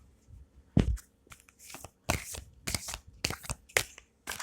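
Tarot oracle cards being gathered and put away, with a series of separate papery flicks, rustles and soft taps, each brief and fairly close, some louder than others, spaced across the whole stretch with brief quiet gaps between them.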